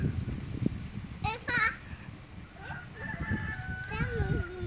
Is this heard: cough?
no